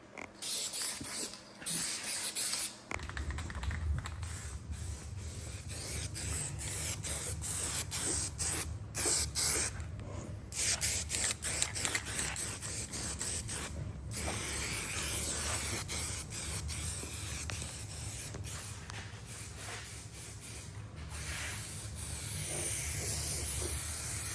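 Satin black paint sprayed onto Camaro parts in a shop, a steady close aerosol hiss that runs almost without a break, with brief pauses between passes.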